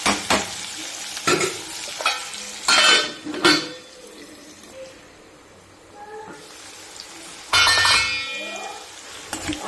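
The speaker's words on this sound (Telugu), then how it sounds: "కలుపుకొని కొంచెం వేగనిద్దాం." Onions fry in a pan with cinnamon and cardamom for a simple chicken curry, sizzling under repeated bursts of spoon stirring and scraping against the pan, with quieter sizzle between strokes.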